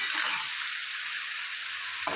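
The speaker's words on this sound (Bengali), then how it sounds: "আস্তে আস্তে এটা কষাতে হবে।" Spinach with slit green chilies sizzling in a pan over low heat, a steady bright frying hiss throughout with a brief stirring scrape near the end, no voices.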